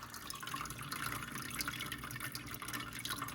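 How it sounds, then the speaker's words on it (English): Water poured into an AeroGarden hydroponic planter growing banana peppers, a steady close trickling and splashing fill running continuously without pause, with no talking. "I need to add water, so that's what I'm gonna do."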